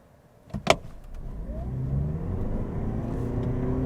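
A 2023 Toyota Prius Prime XSE pulls away hard toward 60 mph, its electric whir and engine drone building steadily and staying loud, preceded by a couple of short knocks at the start.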